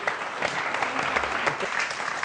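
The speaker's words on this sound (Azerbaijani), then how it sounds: "Monamura alqışlar." An audience at a Novruz spring celebration applauds, a dense steady patter of many hands clapping throughout, moderately loud and without talk.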